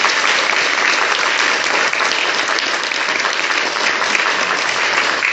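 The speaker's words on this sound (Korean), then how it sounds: "한번 크게 박수 한번 쳐주실까요?" A church congregation claps loudly and steadily after a special Advent homily, a dense, continuous wash of applause filling the room for the whole stretch with no talking over it.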